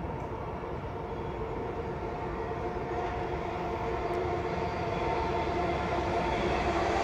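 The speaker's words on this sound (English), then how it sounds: "we now have a train approaching bound for Bondi Junction" A Sydney Trains service bound for Bondi Junction approaches across the Rushcutters Bay viaduct in the afternoon peak, a steady broadband rumble and rail roar that swells slightly as it nears, with no voices over it.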